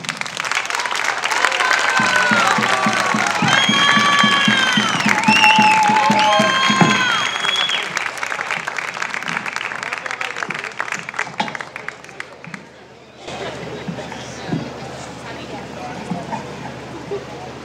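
A village crowd applauds and cheers the herald of the San Cristóbal 2024 festival in Guadramiro, loud sustained clapping with whistles and shouts early on, thinning gradually before a quieter stretch with voices.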